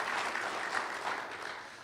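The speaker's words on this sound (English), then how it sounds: "Can we begin by just giving our awesome host a round of applause for the great job that she's been doing?" A steady wash of applause from an audience at an awards banquet fills the hall for the host, an even, continuous clapping with no voices on top.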